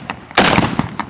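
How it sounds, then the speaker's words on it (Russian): A single loud, sharp shotgun blast at sporting clays shooting, close and sudden, followed by a short echoing decay. "Выстрел."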